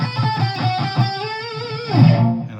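Distorted electric guitar played through a Line 6 amp with the distortion effect engaged from an FBV3 foot pedal, a few sustained overdriven chords and notes, close and moderately loud, with no talking.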